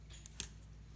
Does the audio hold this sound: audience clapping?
no